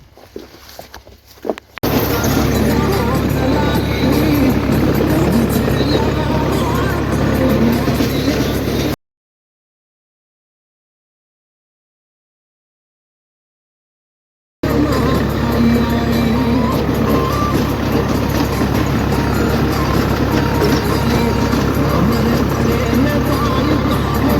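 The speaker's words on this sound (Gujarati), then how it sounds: "હવે રાતે જોઈ લો અમે ટ્રેક્ટર આટલા લઈને આવું કંઈક ગાંડબળ કરીએ છીએ" Several tractors run at night on a farm with field work under way, a loud, steady broadband engine rumble that breaks off for a few seconds of silence and then resumes just as strongly, with voices talking over it.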